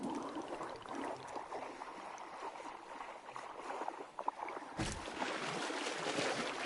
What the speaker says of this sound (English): And just like that, our water scurries over to the infuser.